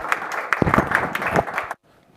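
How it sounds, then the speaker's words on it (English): Audience applause at a conference session, a dense patter of claps that holds steadily for under two seconds and then cuts off abruptly into near silence. "one more round of applause for Kuangbin"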